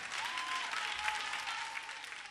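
Audience at a Starlive talent show semi-final applauds warmly, a dense even wash of clapping with a faint tone running underneath.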